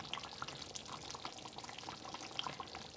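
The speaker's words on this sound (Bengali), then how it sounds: "সামান্য করে কেওড়া জল দিয়ে দিব শাহি ফ্লেভারটা আসার জন্য" A little kewra water is poured into a pot of beef rezala, making a faint, soft trickle with light splashing drips that continue steadily for a few seconds in a quiet kitchen.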